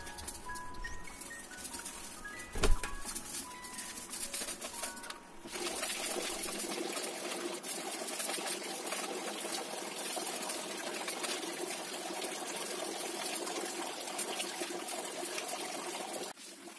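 Tap water runs and splashes steadily while kitchen racks are rinsed in a bathroom, a continuous close hiss of flowing water with a few clinks early on and no talking.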